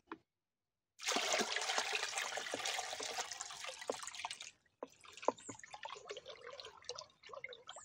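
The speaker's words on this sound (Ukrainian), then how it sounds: "Тепер цей препарат при перемішуванні додаємо в основний і додаємо до 10 літрів води." Water pours steadily into a pesticide mixture being prepared for spraying grapevines, a loud continuous rush with splashing that stops and then trickles and drips irregularly.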